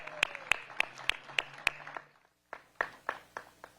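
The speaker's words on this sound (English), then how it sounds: "Once again, another round of applause for Miss Hadi Shatar." Sparse clapping from a small outdoor crowd at a public event, a handful of sharp, distinct claps that pause briefly and then resume.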